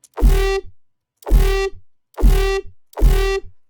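Four loud bursts of harshly distorted synthesized tone, evenly spaced, each with a buzzy sustained pitch and gritty overdrive, separated by brief silence.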